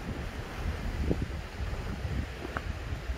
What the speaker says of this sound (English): So there's a little bit of wind.